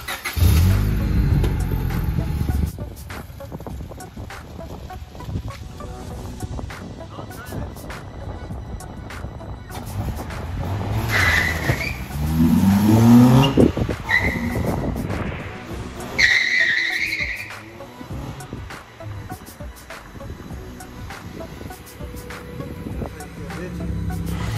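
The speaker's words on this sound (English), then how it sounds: "I'm about to burn some tires." A car doing a burnout, engine revving hard while the tires spin and squeal, loud and close, with people talking and shouting over the roar.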